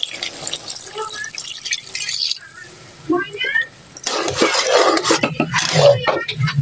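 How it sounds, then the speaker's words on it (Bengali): Water is poured into a pot of cooking bottle gourd, giving a gushing, splashing pour in the second half after brief clinks and stirring, with a voice speaking over parts of it. "আমি পানিটা দিয়ে দিই।"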